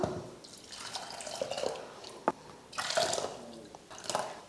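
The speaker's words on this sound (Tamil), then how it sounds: "இப்போ நம்ம வடித்து வச்சுருக்கோம் இல்லையா தண்ணி, அதையும் சேர்த்துடலாம்." Strained lentil cooking water is poured into a pot of tiffin sambar, making an uneven, close splashing and trickling of liquid with a few louder gushes and drips.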